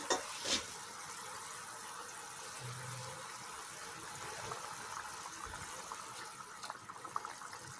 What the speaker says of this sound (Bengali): ঝোলের মধ্যে বলক চলে এসেছে।